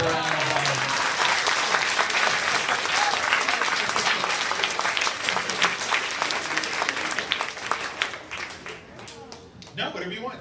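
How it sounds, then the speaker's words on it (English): An audience at a talk by children's author Tony DiTerlizzi breaks into sustained applause, a dense, loud wash of clapping that tapers slightly toward the end, with some voices mixed in. "Let's give a round of applause."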